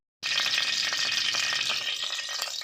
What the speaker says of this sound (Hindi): ये 1/2 कप जो है कुकिंग ऑयल का डाल दिया